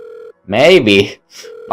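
A phone rings in the horror visual novel The Letter, a loud electronic ring tone in short sustained bursts separated by brief gaps, with a voice-like tonal swell in the middle.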